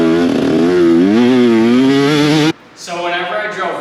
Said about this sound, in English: take my dirt bike from running like this to running like this